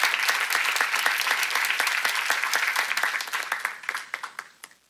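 A church congregation claps during a sermon-seminar, a dense burst of many hands that holds steady, then thins into scattered separate claps and fades out near the end.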